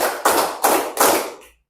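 Hand claps in a quick rhythmic pattern, several sharp claps spaced about a third of a second apart, loud and close with no talking.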